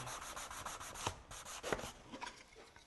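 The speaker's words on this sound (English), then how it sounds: "A little bit of sandpaper" Sandpaper rubbed by hand over wood to clean up drilled holes, a run of short scratchy strokes in an uneven rhythm, close and fairly quiet, with no talk.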